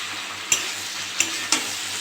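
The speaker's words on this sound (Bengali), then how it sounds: "নেড়ে চেড়ে ভেজে নেব।" Aamadi fish with flat beans and potatoes sizzles steadily in a pan for a chochori, while three sharp clicks of a stirring spoon against the metal cut through the frying.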